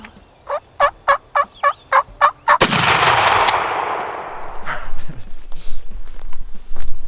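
Wild turkey gobbling during a spring hunt in Wisconsin, a rapid series of about eight loud, close gobble pulses, then a sharp burst followed by rustling and handling noise.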